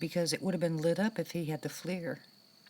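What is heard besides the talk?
No distinct noise like a dog, phone or traffic.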